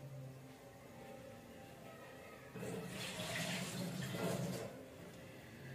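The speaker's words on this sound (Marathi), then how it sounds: "हे आता वरचं पाणी फेकून देते मी." Soaking water is poured off sago pearls in a kitchen. After a quiet start, a gushing splash of water runs for about two seconds and then stops.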